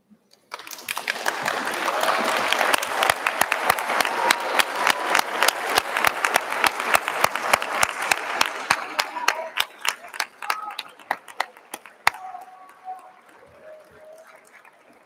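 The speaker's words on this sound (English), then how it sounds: "give them a round of applause." Audience applause at a graduation ceremony bursts out and carries on for several seconds, many hands clapping loudly before it gradually thins and fades away.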